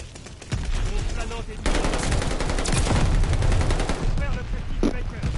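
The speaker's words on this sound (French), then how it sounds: "Moi je tire, allez hop, ah Baker." Gunfire rings out in a multiplayer match of the video game Call of Duty Vanguard, with loud, dense bursts of rapid automatic fire and blasts packed together for several seconds, with a voice faintly underneath.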